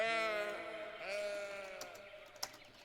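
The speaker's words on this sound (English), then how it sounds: "Sheep." Sheep bleating outdoors, a long wavering call sustained and then repeated, fairly close and clear, with a brief sharp knock near the end.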